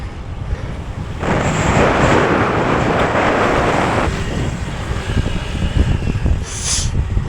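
Wind rushes across the microphone on a motorcycle ride around the Taal loop, a loud steady roar with low buffeting that swells for a few seconds then eases, with no talk.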